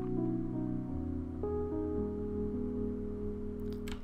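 A Rhodes-style electric piano plays a lo-fi beat line in FL Studio, a soft sustained melody stepping downward alongside the main tune, with held chords changing every second or so and a short bright tick near the end.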